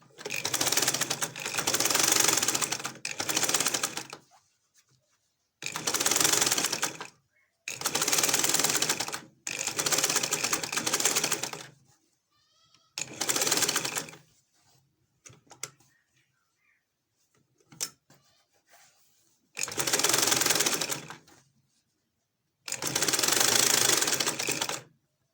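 A sewing machine with a magnetic seam guide stitches along straight and curved seams in about eight loud, close bursts of rapid mechanical chatter. Short silences and faint handling noises fill the gaps between runs.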